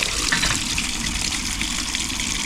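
Water gushes steadily toward a drainage basin ringed with rocks, a loud continuous broadband rush filling the whole short stretch with no talk over it.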